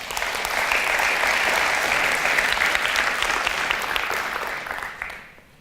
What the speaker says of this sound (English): thank you very much for a round of applause for Gio